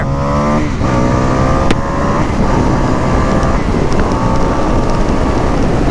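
An Indian motorcycle accelerates hard in a 0 to 60 run, its engine note climbing in stepped pitch sweeps as it shifts up through the gears, loud and close under heavy wind rush.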